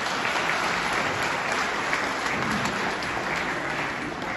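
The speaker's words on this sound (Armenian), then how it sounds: "Այո, ծափարություններ։" Steady, dense applause from a crowd of wedding guests fills a ceremony hall, sustained and even throughout, fairly close and loud.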